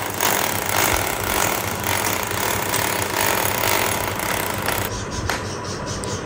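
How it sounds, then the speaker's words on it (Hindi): A drill bores holes into the front of a welded metal rod frame for a parrot cage, giving a loud, continuous grinding roar with rattling and no pauses, ending in a slightly lighter tone. "फ्रंट पे ये ड्रिल कर रहे हैं।"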